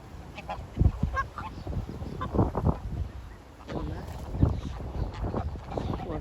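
Ducks, including mallards, call in loose bursts of quacking and honking amid outdoor background noise, moderately close, with voices murmuring at times.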